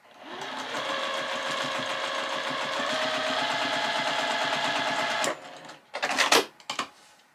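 A sewing machine stitches a quilt piecing seam in a steady fast whir for about five seconds, then stops and gives a few short bursts as the fabric is adjusted.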